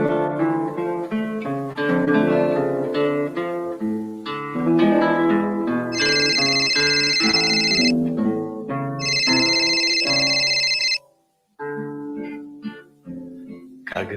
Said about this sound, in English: A phone call woke me up